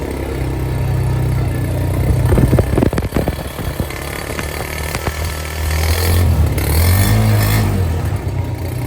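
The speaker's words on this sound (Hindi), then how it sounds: "पहली दफ़ा हमारा बाइक स्टार्ट हो गया।" A Honda CB150F motorcycle engine idles steadily after its first start, with a continuous low running drone, a few sharp mechanical clicks and knocks partway through, and a slight rise in revs near the end.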